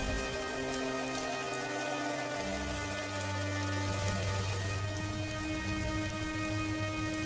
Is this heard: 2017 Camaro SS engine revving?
no